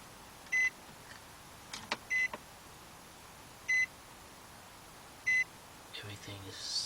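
A 2007 Nissan Murano 3.5 sounds four evenly spaced electronic chimes inside the cabin after the key is turned on, with faint clicks and rustling between them and a soft thump near the end.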